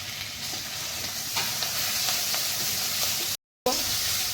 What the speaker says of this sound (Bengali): মশলাটা আমার ভাজা ভাজা হয়ে গেছে